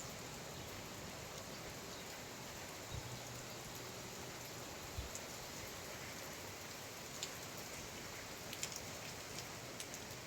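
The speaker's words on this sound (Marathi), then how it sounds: "एवढ्या जोरात आला पाऊस बघ ना किती जोरात आला" Heavy rain pouring steadily as a dense wash of noise, with occasional sharper drips and taps close by.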